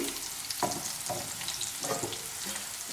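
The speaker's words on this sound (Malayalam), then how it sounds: "ഇടയ്ക്ക് ഇപ്പോൾ വെണ്ടക്കായ ആവശ്യത്തിന് വഴന്നു വന്നിട്ടുണ്ട്" Okra sautés in a pan for Kerala sambar with a continuous close sizzle and soft stirring scrapes recurring about every half second.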